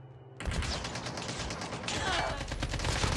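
Rapid gunfire rattles in the Call of Duty Mobile video game, a dense burst of repeated shots that starts abruptly and keeps going loud throughout.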